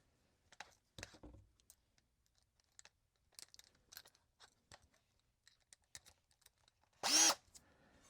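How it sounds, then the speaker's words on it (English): A power drill with a 1/8 inch bit boring headlight holes in a model bus, one short loud whirring burst near the end after quiet clicks and handling noises. "for drilling the holes for the headlights."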